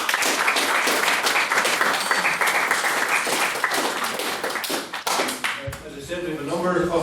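A debate audience claps loudly for a successful maiden speech at a debate on the motion that this House would support the Israeli government, then the applause thins and a voice speaks.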